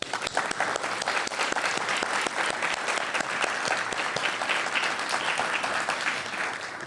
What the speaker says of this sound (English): And I think that alone should have a very warm round of applause.